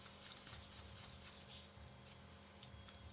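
Close, quiet rubbing of a polishing sponge over a plastic model part, with brisk strokes that scratch and then soften into lighter, intermittent swipes.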